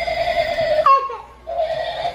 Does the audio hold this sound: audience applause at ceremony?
no